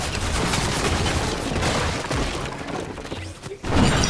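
Dense, continuous gunfire from the Fortnite video game fills the scene with rapid overlapping shots and impacts at steady high loudness, and a brief dip near the end before another burst.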